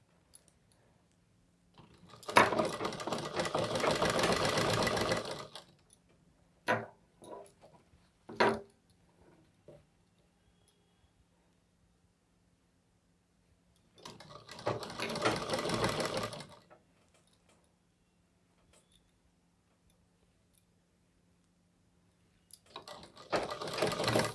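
Sewing machine stitching a round suit collar, three separate bursts of fast mechanical whirring spread through the clip, with small clicks and handling knocks between them in an otherwise quiet room.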